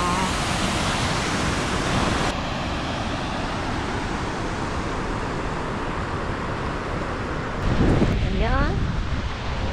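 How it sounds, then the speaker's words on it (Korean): Rushing river and waterfall in Iceland, a steady broadband roar filling the whole clip, with a voice briefly exclaiming over it near the end. "강물 흐르고"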